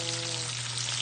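Food frying in a pan for a rainy-day home meal, a dense steady crackling sizzle that fills the whole short moment, close and even with no talking.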